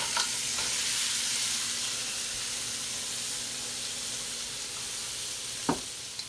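A chopped whole onion and carrots sauté in butter for fried rice, producing a loud, even hiss of sizzling with a couple of sharp utensil knocks and no voices.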